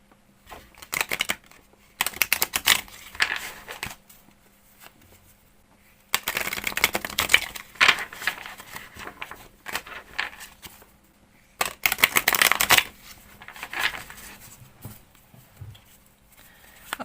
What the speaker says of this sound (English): so let me cut the cards right now. Cut the deck, I mean.